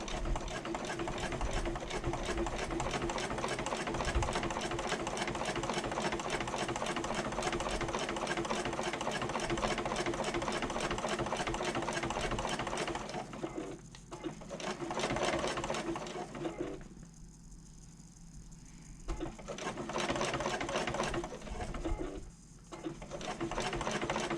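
A sewing machine stitching along the bottom of a bag liner, a steady fast mechanical whirr running for a long stretch, then pausing briefly and restarting in shorter bursts.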